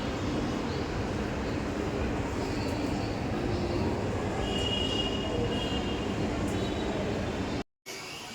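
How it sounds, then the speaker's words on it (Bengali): Kolkata Metro train ridden from Shobhabazar, a steady loud roar of wheels and carriage rumble throughout with faint squealing, cutting out briefly near the end. "শোভাবাজার থেকে মেট্রো ধরলাম, ধরে এবার আমি আমার লোকেশন মাস্টারদাতে যাব।"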